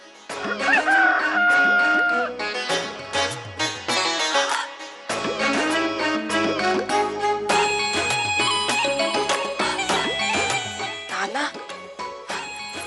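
A voice imitates a rooster's crow, repeated several times among lively music and talking.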